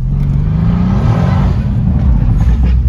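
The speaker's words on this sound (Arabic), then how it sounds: "اتس ا في 8 بي تيربو" Mercedes C63s AMG with a V8 biturbo engine, loud and close, holding a deep steady rumble with a low drone rising slightly as it revs, continuous for the whole stretch.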